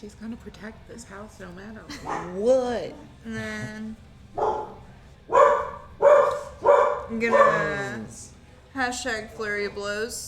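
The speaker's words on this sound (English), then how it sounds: "Pardon the tavern dog." A dog in the room barks and yips repeatedly in short bursts, some whimpering, close and loud, interleaved with people talking over it.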